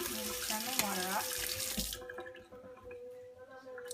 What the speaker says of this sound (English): And turn the water off.